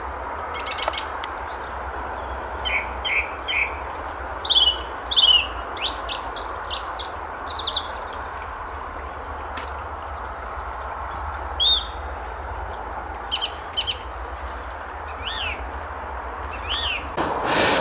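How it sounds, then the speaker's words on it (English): Birds chirp and sing in repeated bursts of bright tweets over a steady outdoor background hum, with no voices. "It's lovely to hear the sound of the birds in the background as well"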